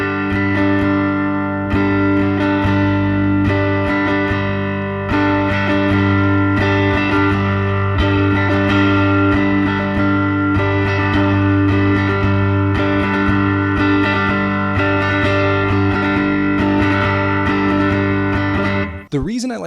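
A repeating strumming pattern on an effects-driven electric guitar, strummed chords gradually picking up speed over about twenty seconds, loud and close with steady sustained tone and no talking.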